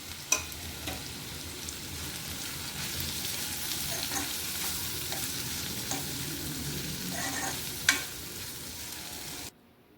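Green beans stir-fried in a pan with crushed peanuts and grated coconut give a steady, close sizzle with scraping stir strokes and a few sharper knocks, and no one speaks.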